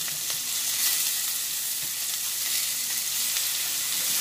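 Beyond Burger plant-based patties fry in a hot pan, giving a steady, close sizzle and crackle that rises and falls slightly, with no talking over it.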